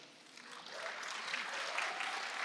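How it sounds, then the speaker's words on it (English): An audience breaks into applause, clapping starting softly and swelling into a steady, moderately distant round. "we can clap for Khadr Al Yatim"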